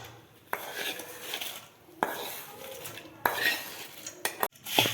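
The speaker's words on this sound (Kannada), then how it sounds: "ಈಗ ನೆಕ್ಸ್ಟ್ ಈಗ ಈ ಒಗ್ಗರಣೆನ ಇದಕ್ಕೆ ಮಿಕ್ಸ್ ಮಾಡ್ಕೊಳ್ಳೋಣ" A spoon stirs tempering into crispy chooda made from leftover rice in a metal pan. Soft scraping is broken by a few sharp clinks of the spoon against the pan's rim, fairly quiet and with no talk.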